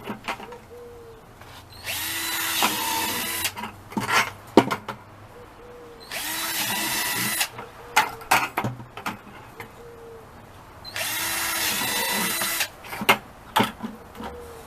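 A power drill bores holes through a plastic bucket for a container garden: three long, loud whining bursts separated by pauses filled with clunks and handling knocks.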